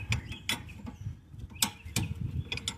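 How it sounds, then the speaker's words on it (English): A 19mm brake caliper bracket bolt is worked loose on the rear brakes of a 2009 Nissan Maxima, with close, uneven metallic clicks, ratchet-like taps and scrapes. "I'm taking this 19mm bracket bolt off."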